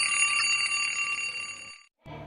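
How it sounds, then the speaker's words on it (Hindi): An electronic telephone-style ring sounds as a bright, fairly faint chirping trill that runs steadily for nearly two seconds, then stops abruptly before a brief new sound begins. "अचानक फ़ोन की घंटी बजने लगी।"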